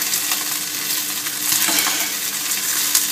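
Roast beef sizzles steadily in a pan, loud and close, as cooking juices are spooned over it, with a soft scrape of the spoon partway through.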